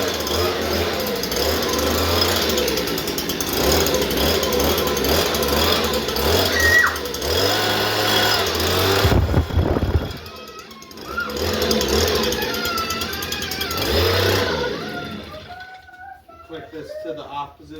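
Stihl SH56C leaf blower, a small two-stroke handheld engine, running with a steady buzzing drone close by, then cut briefly before revving again and dying away near the end.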